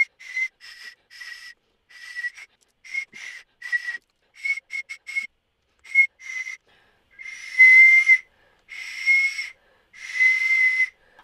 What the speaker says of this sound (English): Now I'm going to tape my 3 caps together to make a sikus.